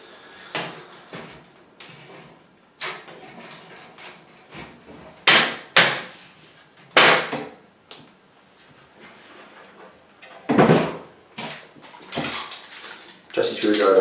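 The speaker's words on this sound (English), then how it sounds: "I'm just going to pop the side panel back on" Metal side panel of a Raijintek Aeneas PC case being fitted back on and fastened with a screwdriver, a run of irregular clunks, knocks and sliding scrapes, some loud and close, with brief pauses between.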